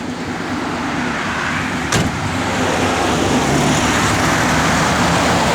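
A 1966 Buick Skylark engine is revved, giving a loud, steady, rumbling drone with a small lift after a brief click, heard close up with no talking.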